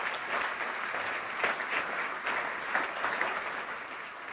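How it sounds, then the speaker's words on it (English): A conference audience at NAIFA's 2019 Congressional Conference gives a round of applause, a full, sustained wash of many hands clapping that stays strong and even from start to finish. "I think you should give yourselves a big round of applause for the great work you do every day."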